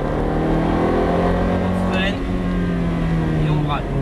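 A Ferrari F430 accelerating on a track during a driving course, with a loud, steady in-car engine drone and harmonic whine, and an instructor's voice talking over it throughout.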